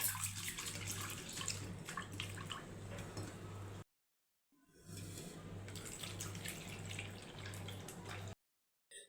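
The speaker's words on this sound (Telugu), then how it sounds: "వీటిని ఒకసారి శుభ్రంగా వాష్ చేసుకోవాలి" Urad dal being washed in water: splashing and swishing in a bowl under running water, in two stretches broken by brief silences, with a low electrical hum underneath.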